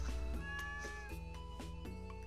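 A farm cat meowing in the Stardew Valley video game, several short meows over steady game music, fairly quiet.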